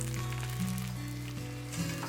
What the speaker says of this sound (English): let's add sugar to the pot. And also the butter, and then we'll melt this down so it's a nice caramel looking sauce